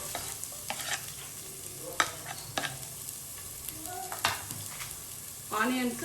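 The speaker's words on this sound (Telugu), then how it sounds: "బ్రౌన్ కలర్ వచ్చేంత వరకు ఫ్రై చేసుకోవాలి." Thinly sliced onions frying in a pan until brown, a soft continuous sizzle broken by scraping stirs and clinks of a spoon against the pan, close and alone, no talk.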